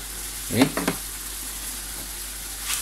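Squid sambal sizzles and is stirred in a pan, giving a couple of short scraping stirs over a faint, steady background frying hiss.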